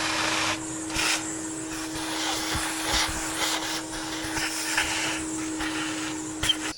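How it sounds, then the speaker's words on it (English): Vacuum hose sucking debris off an engine intake, a loud continuous roaring whoosh with a steady motor whine, broken by rattling bumps and scrapes as the nozzle moves around. "First, going to have to suck all the garbage off that intake."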